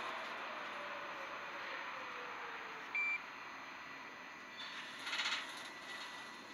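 A metro train rolling through a station in the Subtransit Drive mobile game, a low steady running hum with a short electronic tone partway through and a faint rising whine near the end.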